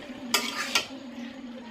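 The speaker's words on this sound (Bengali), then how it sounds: "শাকগুলোকে ভালো করে কষিয়ে নিচ্ছি" Bottle gourd greens are stir-fried in a pan, with two distinct scraping stirs over a low, steady cooking hiss, close and fairly quiet.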